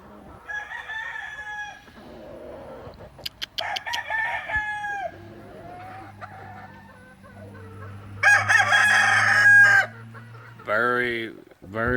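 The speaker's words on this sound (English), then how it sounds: "Very pretty chickens." Gamefowl chickens and roosters in a breeding yard crow several times and cluck between the crows. The calls are close and clear against a quiet background.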